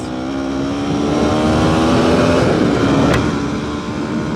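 A Yamaha R6 motorcycle accelerates hard through city streets, its engine note loud and close, climbing steadily in a sustained high-revving whine with a brief sharp click near the end.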